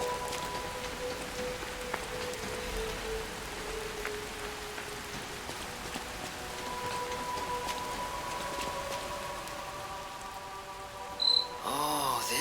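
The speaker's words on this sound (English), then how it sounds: "I like that rain sound." Steady rain falls in the video game Lies of P, a constant soft patter with faint insect-like chirps beneath it and a brief louder burst just before the end.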